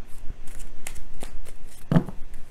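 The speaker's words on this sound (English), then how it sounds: "I want to do one more good shuffle here before I go ahead and pull two." A deck of tarot cards being shuffled by hand at close range, a quick series of soft riffling flicks and taps with one sharper knock near the end.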